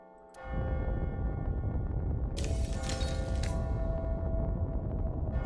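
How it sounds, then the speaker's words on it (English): In the video game AI: The Somnium Files - nirvanA Initiative, a bell rings at midnight over a loud, dense low rumble. Bright metallic clangs stand out partway through, then a sustained tonal hum follows. "Is that the bell?"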